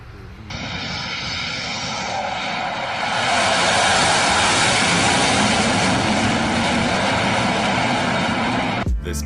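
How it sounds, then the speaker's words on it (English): An airplane takes off just a few feet overhead, its engine roar loud and sustained, swelling in intensity midway and holding near its peak before cutting off abruptly at the end. "This plane taking off just a few feet overhead."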